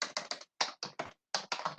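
Fingers tap out text on a computer keyboard in short bursts of quick, close keystrokes separated by brief pauses, quiet and alone without talk.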